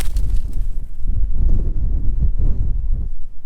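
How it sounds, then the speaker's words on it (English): Strong wind blowing outdoors on a buffalo ranch, a steady low roaring rumble with gusty buffeting against the microphone throughout. "It's still pretty windy out today."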